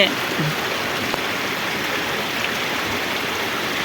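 Rainwater rushes like a stream across a damaged road that has turned into a drain after heavy rain, a steady close-up wash of flowing water throughout.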